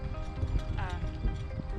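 A former racehorse, now being trained as a ranch-style horse, walks under a rider with soft rhythmic hoof clops, while a person talks over it and a brief whinny-like tone rises midway.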